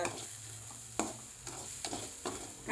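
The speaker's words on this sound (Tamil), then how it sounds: "இப்போ இந்த முட்டைக்கோஸ் கூட நல்லா கலக்கி சிம்மில் வைங்க சிம்மில் தான் திருப்புங்க" Cabbage stirred in a pan over a low flame, a soft steady sizzle broken by four or five distinct spatula scrapes at an unhurried pace, quiet and close, with no talking.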